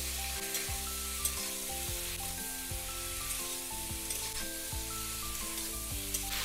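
A bean and potato curry seasoned with salt and turmeric sizzles quietly in the pan, with soft stirring under a steady melodic music bed that dominates throughout.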